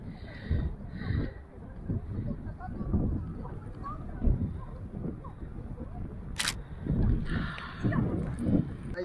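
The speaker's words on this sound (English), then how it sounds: "Every time I'm trying to get some shots, it just gets so windy." Strong icy wind buffets the microphone outdoors in the snow, a steady low rumble with gusts swelling and easing throughout, with a brief camera shutter click near the middle.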